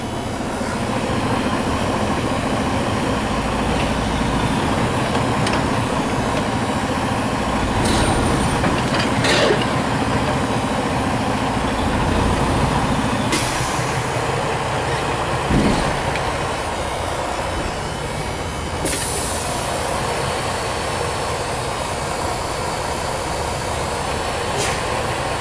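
A truck engine idles and runs in first gear with a loud, continuous rumble and mechanical clatter, a few sharp clicks and shifts cutting in along the way.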